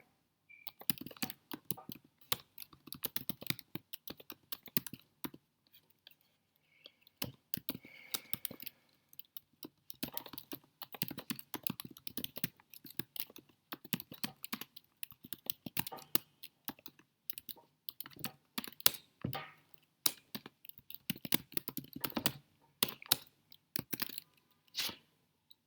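Rapid clicking keystrokes on a computer keyboard come in irregular bursts with short pauses, close and steady while someone types code during a timed programming contest.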